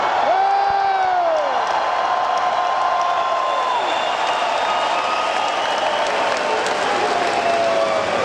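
An indoor metal concert crowd in Cedar Rapids, Iowa applauds and cheers steadily throughout, with scattered whoops and whistles.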